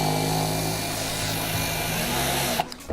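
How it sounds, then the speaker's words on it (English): A power drill whirs steadily as it drives a wood screw into an old wooden chair spindle, running loud and close for a few seconds before the motor cuts off abruptly. "I'm going to take my drill, my handy dandy drill."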